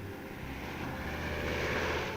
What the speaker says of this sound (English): it's no problem for the little hedge-hopping Army planes